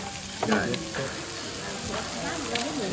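Mushrooms and other food grill at a restaurant in a Japanese apple orchard, a steady close sizzle and crackle with occasional stirring clinks and a voice talking faintly underneath.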